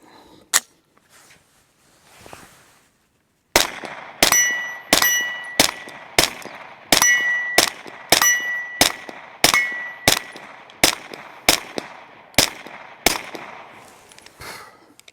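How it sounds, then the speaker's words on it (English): A run of suppressed pistol shots with 124 grain ammunition, each sharp crack followed by a bright metallic ring from steel targets, about a dozen evenly spaced shots after a few scattered earlier pops, loud and close. "Shooting pistol suppressed is cool"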